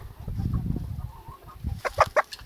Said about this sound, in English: This is a frizzle. They're funny chickens.